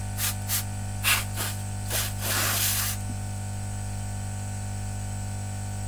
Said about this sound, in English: Spray again.